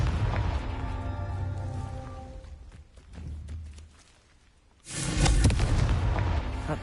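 Confringo blasting spell in Hogwarts Legacy, with a heavy rumbling background easing off before a loud, close booming explosion bursts in near the end and rolls on.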